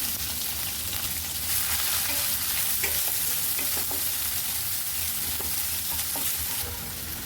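Chili, fenugreek and onion hitting a hot pan with urad dal, crackling and sizzling loudly and continuously, with faint stirring clicks and no voices.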